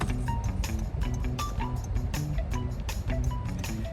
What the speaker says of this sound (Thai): อันนี้คือเสียงไฟเลี้ยว